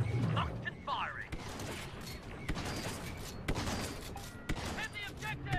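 Video game gunfire and a tank battle with Darth Maul, sharp shots and bursts cracking irregularly at mid distance while a voice talks over much of the action.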